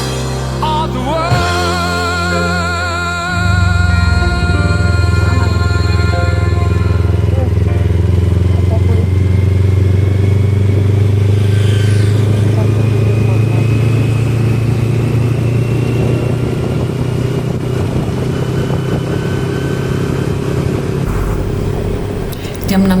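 A Kawasaki Z250 motorcycle on a solo ride, its engine droning loud and steady throughout, rising in pitch as it accelerates and holding a continuous roar with wind noise.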